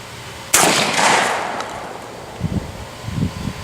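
A shotgun fires a single loud, sharp blast outdoors during a clay shooting demonstration, with the report decaying over about a second, followed by faint rustling and handling sounds.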